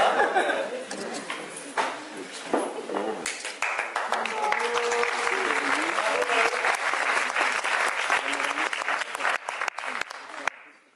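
Brisk audience clapping greets the dancers at a 2024 Breton dance contest for the Gavotte Bas-Léon in Plouédern, a burst building into dense steady applause with some laughter and chatter before tapering off.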